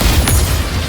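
A mortar explodes in the video game Wuthering Waves, a loud deep boom with a rumbling low tail lasting about a second, close and heavy.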